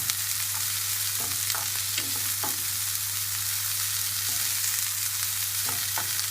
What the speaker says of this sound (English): There it is, that nice sizzle. That's the onion and the garlic